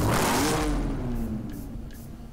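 BMW Z4 sDrive35is in Need for Speed Hot Pursuit, a loud close engine rev that climbs sharply then settles to a lower idle-like drone, with no talk.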